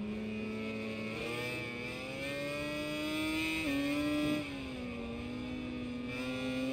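A steady engine drone rises and dips in pitch as an old classic motorcycle rides through Thailand in MotoGP 21, loud and continuous with no talk over it.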